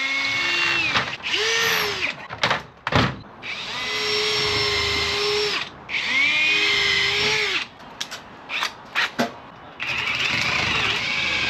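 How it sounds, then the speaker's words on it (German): A power drill bores holes in several long whining bursts, its motor rising and falling in pitch with short pauses and knocks between runs, close and loud. "Dann fangen wir gleich mal an, Löcher zu bohren."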